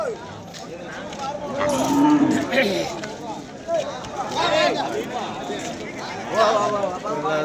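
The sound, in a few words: cattle at a cow market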